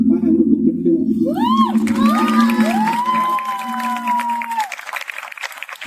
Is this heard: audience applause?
yes